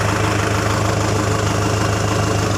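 Kubota M6040 tractor engine idling steadily, a loud, low, even diesel throb with a constant vibrating rumble and no voices.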